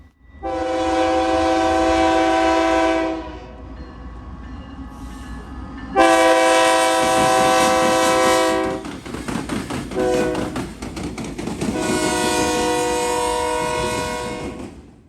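Freight train hauled by BNSF locomotives, one still in BNSF Heritage 1 paint, passing close and loud with repeated long horn blasts over rumbling, clattering railcars.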